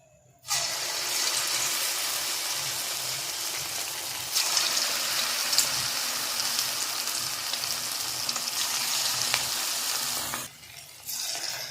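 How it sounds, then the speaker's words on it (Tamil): Bonda made from idli batter goes into hot oil and starts a loud, steady sizzle that keeps going with bubbling crackle and then drops off briefly near the end. "இப்போ எண்ணெய் காஞ்சிருச்சு, போண்டா போட்டுக்கலாம்."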